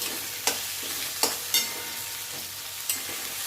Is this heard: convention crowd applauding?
no